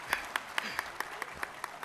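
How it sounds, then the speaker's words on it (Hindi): At a poetry gathering, a few hands clap for the organisers in a steady, evenly spaced rhythm of about nine sharp claps, quiet and close. "जरा इनके लिए जोरदार तालियां बजनी चाहिए"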